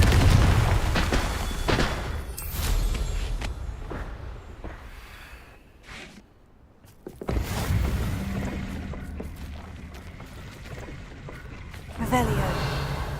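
Booming blasts from the Confringo spell in Hogwarts Legacy burst out several times over a rumbling game soundscape, with a voice speaking at points.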